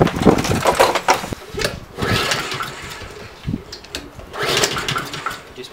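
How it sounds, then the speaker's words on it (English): A Honda lawn mower engine cranks repeatedly without starting, three separate loud pull-start bursts of rapid chugging with pauses between them. "It just will not start."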